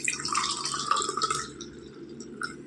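Watermelon juice from crushed, seeded watermelon is poured into a glass, making a short, close liquid trickle with light dripping that fades toward the end.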